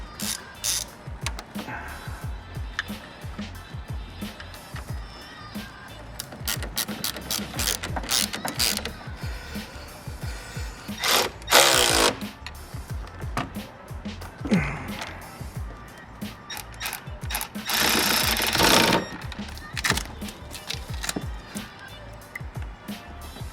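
A ratchet wrench tightens battery terminals on a Toyota Tacoma, giving rapid clicking bursts of varying length with metallic knocks between them, close and fairly loud.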